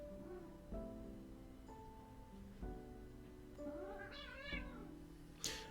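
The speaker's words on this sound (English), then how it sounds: "my cats are fighting in the background" Cats fight indoors, with repeated drawn-out yowls and caterwauling, moderately faint, ending in a sharp hiss.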